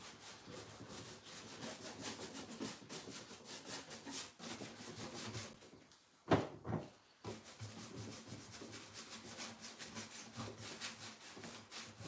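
A cloth rubs clear wax onto wooden legs with steady, quiet back-and-forth strokes, pausing briefly near the middle before the rubbing resumes.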